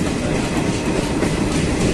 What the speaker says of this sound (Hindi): देखिए ट्रेन पटना साहिब से निकली है और अब गुलजारबाग आने वाली है